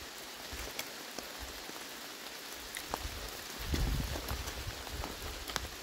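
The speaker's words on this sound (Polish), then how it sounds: "jeszcze pół godziny, może godzina takiego deszczu" Steady rain patters over a broad hiss, with scattered drops ticking nearby and a brief heavier swell midway; no voices.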